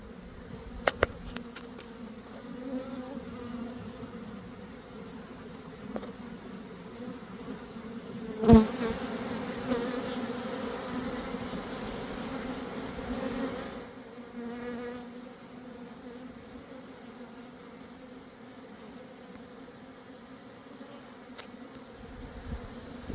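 Honeybees swarm and buzz around hives at an apiary, a steady dense drone. It stays at a constant level the whole time, swells briefly midway, and carries no talk.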